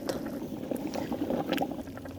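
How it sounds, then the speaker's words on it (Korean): Siraegi gamjatang, a stew with dried radish greens, bubbles in a pot over a wood fire, a soft steady gurgle with small pops, close and fairly quiet, with no voices. "지금 이 끓는 소리."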